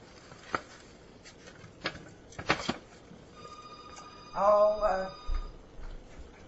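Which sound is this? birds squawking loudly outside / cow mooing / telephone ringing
telephone ringing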